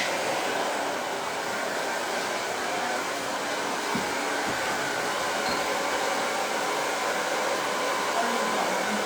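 A hair dryer with a YS Park metal mesh diffuser fitted blows a constant loud whooshing roar close by while drying curly hair after a layered cut, with a few faint knocks beneath it.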